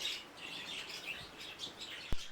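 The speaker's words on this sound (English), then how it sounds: "it's these finches now, they're going to be buzzing" Finches chirp in a busy, overlapping scatter of quick high notes, soft and somewhat distant, with one brief sharp knock near the end.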